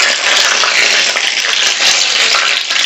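Watermelon fries in hot oil with a loud, dense, continuous sizzling hiss that stays close and steady throughout.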